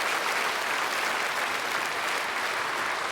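A church congregation at Sunday worship welcomes new members with loud, dense, sustained applause, a steady roar of many hands clapping that fills the room without pause.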